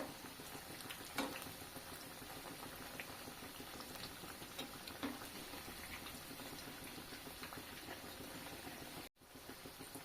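Soft, continuous bubbling sizzle of snacks frying in oil, fairly faint and even, with a couple of small clicks.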